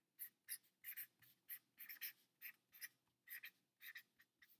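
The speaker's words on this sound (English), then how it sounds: "I'm going to use my blue marker and I'm going to write examples" A blue marker writing on a surface, a quiet series of short squeaky strokes in an uneven rhythm, close and alone.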